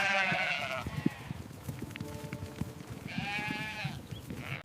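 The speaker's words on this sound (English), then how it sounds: "The sheep start to return to the enclosure." Sheep bleating as the flock returns to the enclosure at sunset, two clear, drawn-out bleats at start and end, moderately close, over faint farmyard background noise.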